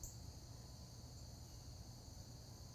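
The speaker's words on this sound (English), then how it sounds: "am I hearing the cicadas, the birds?" Insects drone in a steady, faint high-pitched buzz in a quiet arboretum, a continuous outdoor chorus with a soft low background hum and no clear birdsong or voices.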